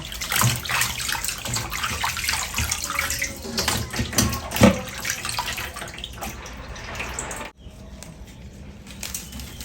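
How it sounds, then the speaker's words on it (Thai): Plain tap water runs steadily over pork intestines as they are rinsed in a sink. The rushing and splashing is loud and close, then drops away abruptly near the end. "ล้างน้ำเปล่าก่อนนะจ๊ะ รอบหนึ่ง"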